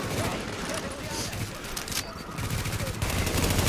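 Bursts of automatic gunfire from the cover shooter The Division, in co-op play in the Lincoln Tunnel, rattle on steadily across the whole stretch, loud and dense, with a player's voice talking over them.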